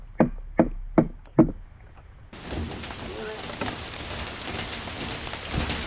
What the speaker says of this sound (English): It rains again and again, practically all week